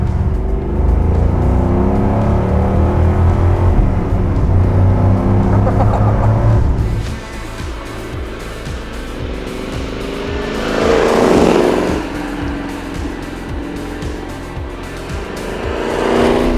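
A Shelby Mustang GT500E Eleanor recreation muscle car drives and accelerates. Its loud engine rises through the gears, drops after a shift, then surges again in strong pulls, with the low throaty rumble of a V8 close by.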